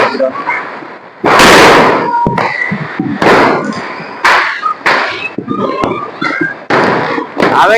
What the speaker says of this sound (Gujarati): આવે કે નહીં ફટાકડાનો અવાજ?